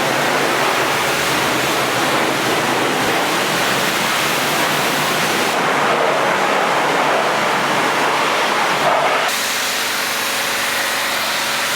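Kawasaki Z900 motorcycle washed with a pressurised water spray at a service centre, a loud continuous hiss of jetting water lasting throughout, briefly changing tone as the spray shifts, with no voices.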